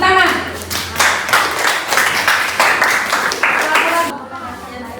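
Bursts of hand clapping from a group in an Indonesian classroom lesson, uneven and fairly close, mixed with voices talking and easing off near the end.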